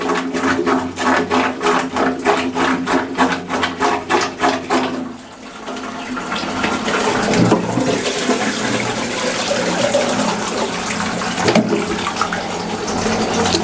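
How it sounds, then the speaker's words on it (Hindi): A blocked Indian squat toilet, cleared with caustic soda, is flushed: rapid rhythmic pumping gurgles lead into a sustained rushing of water draining away, close and loud. "अब हम फ्लश करके देखेंगे।"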